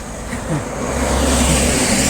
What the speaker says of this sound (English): And traffic is also there. Bit of trucks.